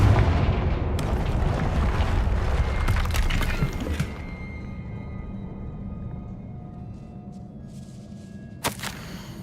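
A loud blast from the Confringo spell in the Hogwarts Legacy video game opens with a rumbling burst that decays over several seconds into quiet, ending with a short sharp crack near the end.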